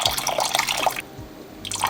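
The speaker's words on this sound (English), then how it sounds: "we're gonna add some of this white wine," White wine pours into a pan of cream sauce with a close, bubbly liquid splash that stops briefly and then resumes.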